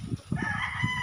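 Young rooster (stag) crowing nearby among a flock of chickens, a short raspy crow with clucking hens around it, brief and fairly loud.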